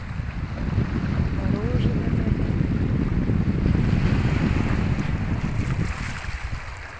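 Wind buffets the microphone over a steady rush of sea waves, a loud, continuous roar that eases slightly near the end.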